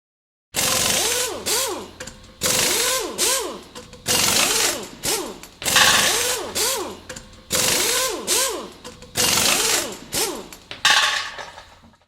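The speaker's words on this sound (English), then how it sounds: "Then use the same socket to remove the nuts on the battery hold-down retainer." A ratchet socket wrench clicks rapidly in six separate bursts while removing the nuts on a Chevy Equinox battery hold-down retainer, each burst a close, loud run of clicks with short pauses between.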